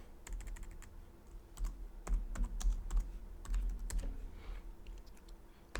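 Someone types numbers into an Excel spreadsheet on a computer keyboard, giving a steady patter of close, crisp keystrokes in quick bursts, with no voices.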